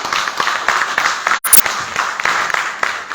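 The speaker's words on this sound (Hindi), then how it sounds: "तो तालियां बन सकती है" An audience at a programme in Ganderbal claps in a short burst. The sound is moderately loud with uneven, scattered hand claps and drops out briefly in the middle.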